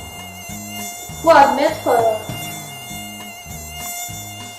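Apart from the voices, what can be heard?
mosquito buzzing near the ear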